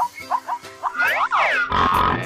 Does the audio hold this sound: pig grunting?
yes